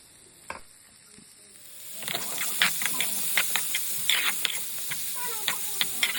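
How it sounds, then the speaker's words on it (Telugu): Finely chopped chillies and onions hit hot oil in a pan with mustard seeds, turmeric and curry leaves, starting quietly then breaking into a steady close sizzle with crackling pops. "finely chop chillies and onion chop అంతా వేసుకొని ఫ్రై చేసుకోండి"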